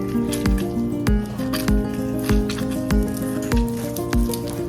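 Lemon juice and powdered sugar glaze is stirred in a bowl, a rhythmic series of wet squishing strokes roughly every half second over background music.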